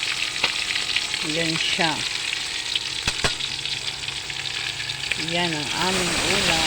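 Fish sizzles steadily in a frying pan at home, a loud continuous crackle throughout, with someone speaking briefly over it.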